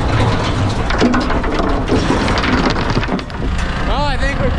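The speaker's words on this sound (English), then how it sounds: "Listening to rock fall on rock." Rocks tumbling onto other rocks inside a rock picker working a field, a dense continuous rattling and crunching clatter, loud and close, running throughout with no voices.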